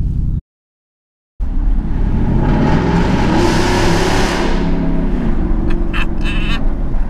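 A Ford F-150 pickup idles on a cold day with a loud exhaust, a deep, rough, continuous rumble that cuts out briefly near the start, then resumes and holds steady.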